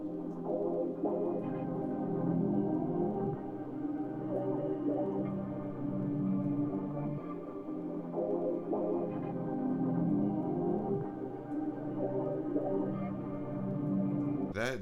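A reversed, pitched-down melody sample drifts in a steady, murky wash with long delay and reverb tails, moderately quiet and continuous without talking.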